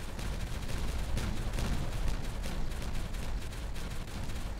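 Explosive charges blasting in the game Timberborn: a thick, sustained wall of rumbling booms and gritty crackle, fairly loud and even, with a few sharper bursts standing out near the start and middle.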